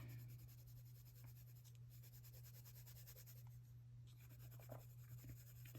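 Soft, scratchy strokes of a colored pencil on paper, colored lightly, quiet and close, with a low steady hum underneath.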